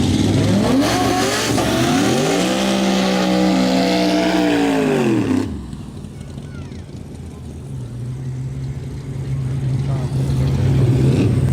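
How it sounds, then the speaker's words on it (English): A Corvette race car engine revs hard and rises in pitch at a drag strip, loud and close for several seconds, then drops away to a steady idle while an announcer talks over it. "Sam in the Corvette."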